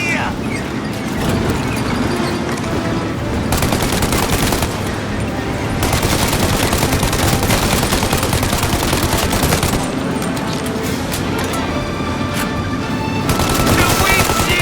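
Sustained automatic gunfire in Mafia: Definitive Edition, aimed at a vehicle windshield, rattling in dense loud bursts over engine noise, with shouted voices mixed in.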